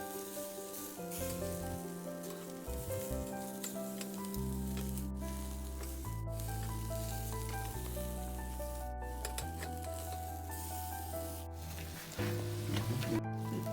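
Honey soy barbecue chicken sizzles steadily in a pan as it is turned over, a soft continuous crackle under louder background music, with no talking.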